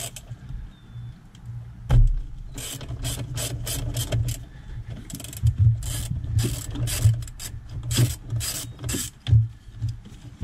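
A ratchet on a T27 Torx bolt in a Mk4 Jetta gives bursts of rapid, close mechanical clicking in uneven runs, with scraping and handling noises between them.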